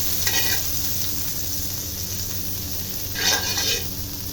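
Butter sizzles in a frying pan, waiting for egg, with a steady frying hiss and brief louder bursts of crackle and light metallic clinks near the start and end.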